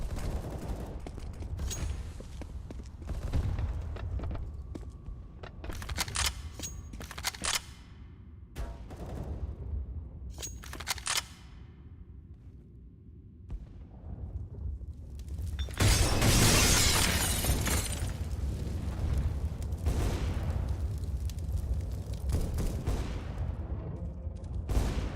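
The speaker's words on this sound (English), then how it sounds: "Deploying flashbang." A loud close-range blast and shattering burst from a flashbang grenade in a Counter-Strike esports grand-final match, preceded by scattered gunshots and clatter and followed by a sustained noisy wash.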